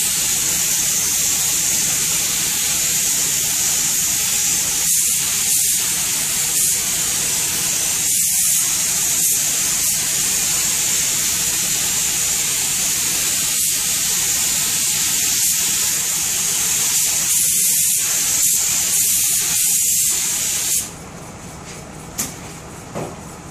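Spray gun applying a steady hissing finish coat of 20-sheen lacquer to a Kindel table, a continuous close spray lasting about twenty seconds with small fluctuations before it cuts off.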